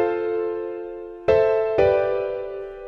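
Sustained piano chords change twice in a slow progression, each new chord struck cleanly and left to ring and fade, close and alone without any talk.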